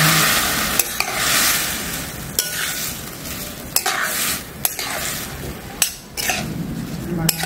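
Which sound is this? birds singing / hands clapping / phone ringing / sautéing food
sautéing food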